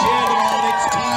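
Race spectators cheer on a runner who is closing fast: a brief, loud wall of crowd noise with overlapping shouts and whoops that carries straight through.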